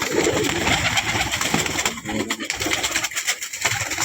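A flock of Punjabi pigeons kept as stock, including tournament-flown birds, coos steadily and densely over a noisy background, with overlapping calls close by and no clear pauses.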